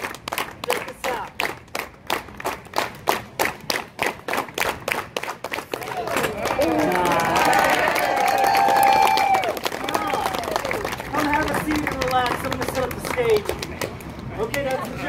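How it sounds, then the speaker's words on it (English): A street crowd on Pearl Street Mall in Boulder claps in rhythm with a performer, steady unison claps that swell into loud cheering and mixed crowd noise with voices over it. "Everybody, please clap with me."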